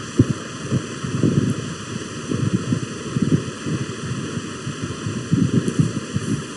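A small DC motor run by an Arduino board hums steadily, turning clockwise and then anticlockwise, with a faint throbbing pulse and electrical whine close by and no voices.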